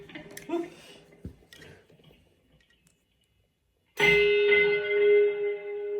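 After a few quiet plucks and a pause, a bright, brassy, bell-like electric guitar chord on the bridge pickup through a Kemper amp profile rings out loudly, sustaining with a shimmering reverberant tail.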